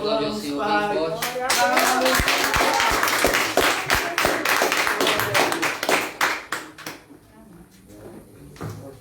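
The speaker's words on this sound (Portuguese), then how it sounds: "Você pode aplaudir o Senhor bem forte." Congregation clapping loudly and steadily during a Portuguese-language church service, a dense run of handclaps over voices and music that thins out toward the end.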